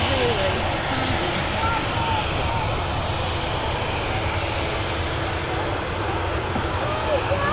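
A Ryanair Boeing 737-800 at Manchester Airport gives off a loud, steady broadband jet roar that holds without a break for several seconds.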